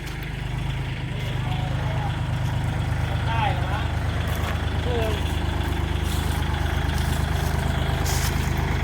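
A heavy diesel tractor engine idles with a steady low rumble throughout, while voices speak briefly over it.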